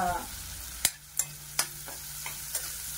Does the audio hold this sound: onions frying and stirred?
yes